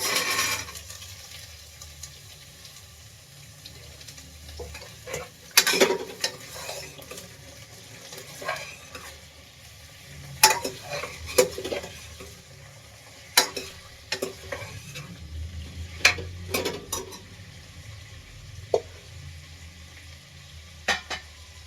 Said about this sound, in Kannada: ಸೊ ಇವಾಗ ಕಟ್ ಮಾಡಿ ಇಟ್ಟಿರೋವಂಥ ತರಕಾರಿ ಹಾಕ್ತಾಯಿದ್ದೀನಿ